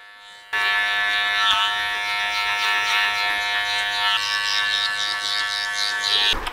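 Electric hair clippers buzz steadily and close up during a haircut, blending the back into the top with clipper over comb; a continuous whirring hum starts abruptly after a short pause and runs unbroken.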